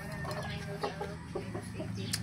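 Chickens clucking softly in short, scattered calls over a low steady hum, fairly quiet and close by.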